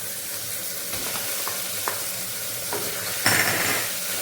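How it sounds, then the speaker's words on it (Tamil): Chicken pieces dropped into a hot pan for nombu kanji, a steady sizzle with a few light stirring clinks and a louder burst of frying near the end, close and alone without talk. "இப்போ நம்ம இந்த எடுத்து வச்சுருக்க சிக்கனை அப்படியே போட்டுருவோம்"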